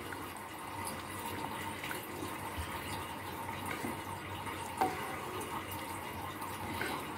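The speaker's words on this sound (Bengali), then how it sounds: "আমার মনে হলো একটু বেশি ঘন হয়ে গেছে, ওই জন্য আমি অল্প একটু জল দেব।" Water pouring steadily into a pot of thick arhar dal, a constant close trickle and splash with one brief clink partway through.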